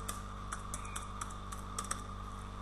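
Password being typed on a computer keyboard while signing into Skype: a quick, steady run of light plastic key clicks, close and fairly quiet, over a faint electrical hum.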